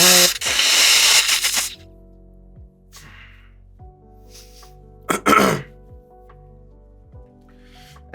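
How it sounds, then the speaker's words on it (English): A person blows their nose in two loud, close bursts, a long forceful one at the start and a shorter one midway, with quiet pauses and faint rustles between. "Give me a second to blow my nose."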